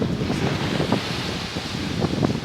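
Ocean waves and gusting wind on the Cape Verde coast, with sailboats out on the water, make a steady, close roar of surf and buffeting wind across the microphone, with no voices.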